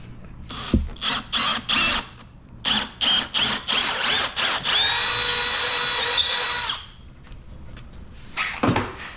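A power drill fitted with a 1/4-inch bit bores into wood while a TV mount goes up under a deck, with short bursts of whirring followed by one long steady run, loud and close.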